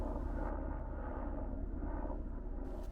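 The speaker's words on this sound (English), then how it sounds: "Helicopters, we see quite a few of them." A helicopter flies over a hiking trail near Sedona, Arizona, heard as a steady, broad rumbling drone with no distinct blade chop standing out.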